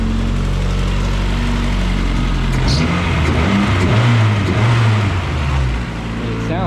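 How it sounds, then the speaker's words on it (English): A Honda CRX engine running flex fuel idles low, then is revved a couple of times in short swells before settling, heard up close with a steady rumble. "give it a couple little revs here"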